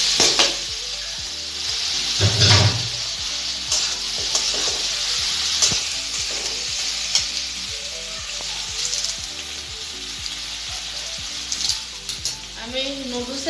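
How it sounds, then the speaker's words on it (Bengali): Vegetable noodles stir-fry in a hot pan, giving a steady, close sizzle broken by repeated rhythmic scraping strokes of a utensil, with no one speaking. "এবার আমি নুডলসগুলো দিয়ে দেবো।"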